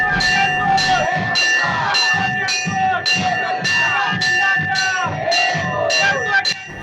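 Festive crowd at a Khandoba palanquin procession during a Champashashti festival at a Swami Samarth temple, a loud, steady rhythmic clanging of bells or cymbals with drums beneath and crowd noise throughout.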